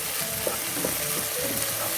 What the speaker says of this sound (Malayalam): ഇഞ്ചി വെളുത്തുള്ളി ഞാൻ ആഡ് ചെയ്ത് കൊടുത്തിട്ടുണ്ട്. ഇതൊന്ന് വാടി വരട്ടെ.